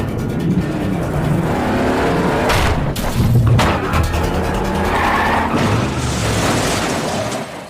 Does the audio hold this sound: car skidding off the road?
yes